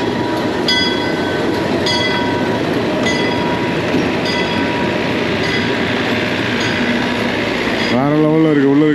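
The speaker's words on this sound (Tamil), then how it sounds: "ட்ரெயின் பாருங்க எப்படி இருக்கு." A train pulls into a railway station, a loud rolling rumble with regular clickety-clack wheel beats, ending with a rising, wavering squeal of wheels or brakes.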